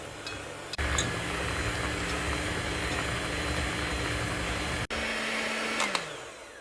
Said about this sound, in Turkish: 2 adet yumurta, bir su bardağından bir parmak eksik toz şeker ve iyice köpük köpük olana kadar çırpıyorum.